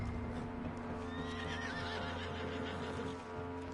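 A horse in the Red Dead Redemption 2 video game whinnies with a wavering, rising neigh over a dense, steady bed of hoofbeats and ambient game sound, close and continuous.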